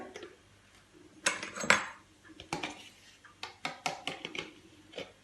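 Spoon scraping and clinking against a pot while cream is scooped out for a ham and potato quiche, a series of sharp metallic taps and knocks in irregular bursts, close and fairly quiet.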